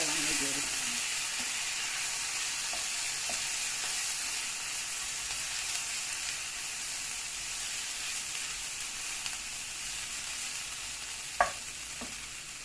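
Tomato paste sizzles and fries steadily in a pan with milk thistle greens while a spoon stirs it, a continuous close hiss with a sharp scrape or clink near the end and no talk.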